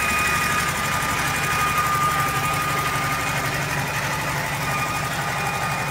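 An air-cooled VW Beetle engine idles after a wiring socket repair, running with a fast, even mechanical chatter and a faint whine, steady and close throughout.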